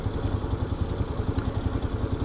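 A Kawasaki KLR 650 motorcycle engine idles nearby with a steady, low, pulsing thump and a faint mechanical clatter, continuous and alone throughout.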